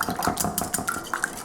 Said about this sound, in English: Okay, so now we're going to whisk this together.